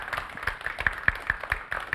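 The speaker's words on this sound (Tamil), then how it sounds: "உங்களுக்கு நீங்கள் கைத்தட்டிக்கோங்க" Clapping in a talk venue, a steady rhythmic run of sharp claps spaced evenly, moderately close and fairly faint, with no one speaking over it.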